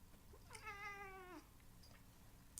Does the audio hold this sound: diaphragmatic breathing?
no